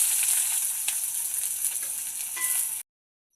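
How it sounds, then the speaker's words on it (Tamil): Onion sautéing in hot oil gives a dense, bright sizzle, close and steady, with faint stirring scrapes, cutting off abruptly near the end. "வெங்காயம் சேர்த்து நல்லா பொன்னிறம் வதக்கிக்கொள்வோம்"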